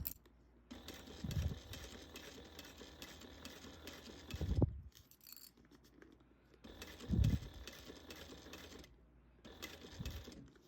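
A sewing machine stitches around a bag in steady whirring runs, stopping and restarting several times with short pauses and soft clunks in between.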